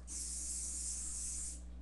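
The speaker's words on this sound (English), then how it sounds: "you spray the sides" A single continuous hair spray hiss lasting a couple of seconds, sprayed on the sides of a mohawk, close and fairly quiet, starting and stopping cleanly.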